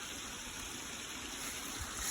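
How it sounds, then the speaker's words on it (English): A small spring-fed feeder creek runs down a steep ridge in a steady, faint, continuous trickle and wash of water, with no voices. "this little feeder spring creek runs right down to the main"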